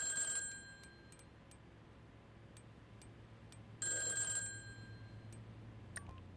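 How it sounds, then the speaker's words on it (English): A bell-style telephone rings in two short bursts a few seconds apart, sounding somewhat distant over a low steady hum in an otherwise quiet room. "I heard that phone ring and I'm a little worried about it."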